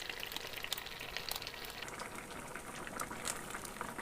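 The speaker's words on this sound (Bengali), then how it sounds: "দিয়ে এবার ঢাকনা চাপা দিয়ে কিছুটা সময় রান্না হতে দিতে হবে।" Egg curry simmers in spicy water under a lid, giving a steady, soft bubbling hiss with scattered faint pops throughout, with no talk.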